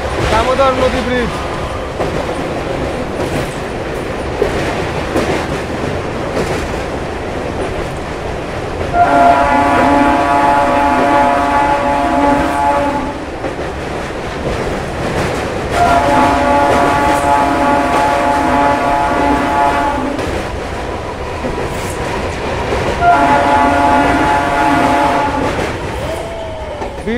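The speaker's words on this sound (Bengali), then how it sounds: "দামোদর রেল ব্রিজ পার করলাম আমরা" A Purulia–Howrah MEMU passenger train rolls across the Damodar rail bridge with a loud, continuous rumble and rattle. Its horn sounds three long blasts, spaced several seconds apart.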